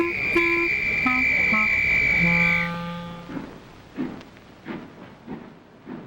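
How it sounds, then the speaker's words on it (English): A train on a journey to London sounds a long steady whistle or horn tone, then the whistle fades out and gives way to rhythmic chugging and rail clatter. "I'm on the train to go to London"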